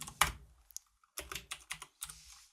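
Computer keyboard keys tapped while typing code for a C# program, a handful of crisp, close clicks in short irregular bursts with pauses between, no talking.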